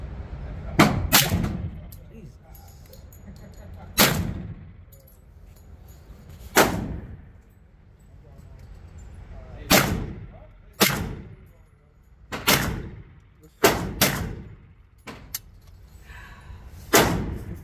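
Kris Vector .45 ACP carbine fired outdoors at targets, about ten sharp, loud single shots spaced irregularly, some in quick pairs, with a faint voice in the background between shots.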